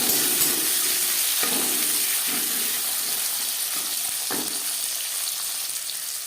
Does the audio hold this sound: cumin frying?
yes